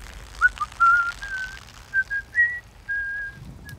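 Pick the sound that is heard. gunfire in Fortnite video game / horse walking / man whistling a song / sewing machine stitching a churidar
man whistling a song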